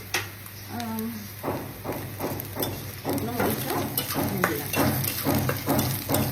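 Garlic cloves and dried red chillies frying in hot mustard oil, a steady close sizzle with repeated stirring scrapes and clacks against the pan.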